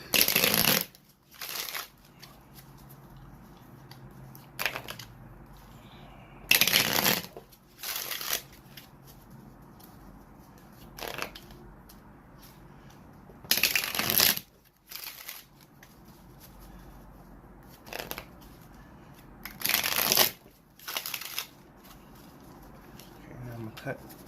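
Playing cards being shuffled and cut during a card reading, in repeated bursts of riffling, crisp flutters separated by short pauses, close and loud.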